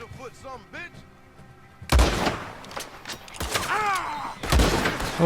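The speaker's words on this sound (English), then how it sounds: "Oh dear, I've shot the horse." Gunfire in Red Dead Redemption 2 cracks out in sudden heavy blasts, three loud bursts with echoing tails, mixed with in-game voices and talk.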